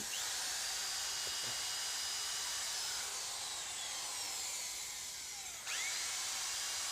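A high-pitched electric drill whines continuously up close, drilling metal for a boti blade handle, with a brief pause and restart near the end; no voices.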